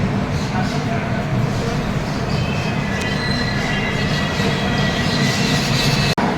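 The Ranchi-Howrah Shatabdi Express pulls into Asansol Junction with a steady loud rumble and wheel noise, a faint squeal and a sharp click near the end, while people talk nearby.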